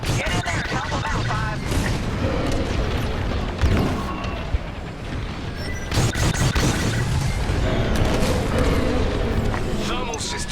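Explosions and heavy blasts rip through a space dogfight as a ship's thermal system is destroyed in Star Wars: Squadrons, with booming impacts and weapon fire layered over a continuous loud roar of combat and engines.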